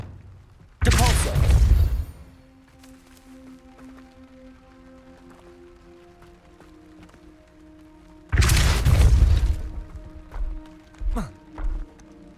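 Depulso force spell cast in Hogwarts Legacy: two loud, wide whooshing blasts a few seconds apart, each lasting about a second, followed by a few short thumps over a low humming background.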